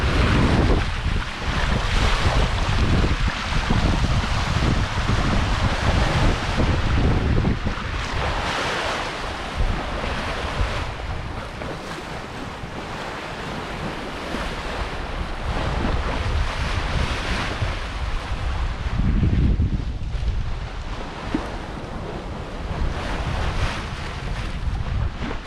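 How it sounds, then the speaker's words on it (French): Sea water sloshing and washing against a sailboat's hull during an open-ocean crossing from the Azores to Gibraltar, a continuous surging rush mixed with heavy wind noise, swelling and easing in slow waves. "Et le bruit de l'eau contre la coque du bateau"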